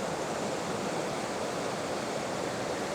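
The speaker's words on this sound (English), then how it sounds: "I've decided to stop first at this waterfall before I go into the quieter woodland." Waterfall in the Dart Valley woodland in autumn, a steady broadband roar of falling water heard up close, loud and continuous with no voices.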